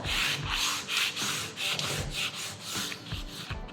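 Sandpaper rubbed by hand over painted wood after a single coat, distressing the finish in a wax-resist technique; steady, close, rhythmic back-and-forth scraping strokes repeat about every half second with no voices.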